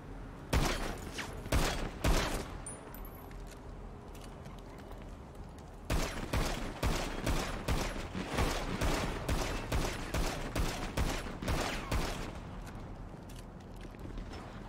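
Gunfire from a rooftop during a bank truck robbery in a video game, bursts of sharp shots, quieter in the first half and then a dense, rapid volley after a brief pause.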